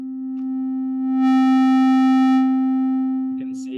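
A steady synthesizer tone sustains throughout; partway through, drive distortion is raised, filling it with a bright buzzing stack of harmonics before it eases back to the cleaner tone, with a brief glitch at the end.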